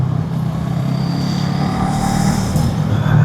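A Brixton Crossfire 500X motorcycle rides through hot city traffic in Ahmedabad, a steady engine drone with road and wind noise from the rider's position, rising slightly toward the end.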